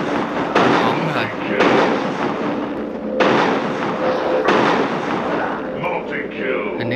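Single shots from a gun in the Android zombie shooter game Dead Target, four heavy booming bursts spaced about a second apart over constant in-game background noise.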